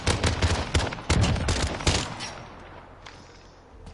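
Rapid bursts of gunfire in a Call of Duty 2v2 Gunfight tournament match, loud and dense for the first two seconds with pistol-like cracks, then thinning to a quieter tail with a lone late shot.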